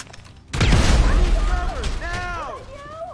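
A grenade explodes in the video game GTA 5 with a sudden heavy boom and rumbling debris, followed by a voice shouting over the fading blast.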